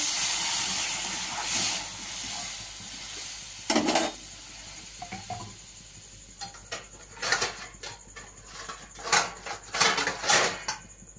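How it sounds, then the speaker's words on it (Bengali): Water splashes into a hot pan while cooking a mango chutney, giving a sharp hissing burst of steam that settles into a softer sizzle, followed by scattered scraping and utensil clinks close by. "এবার আমি দিয়ে দিচ্ছি একটু জল"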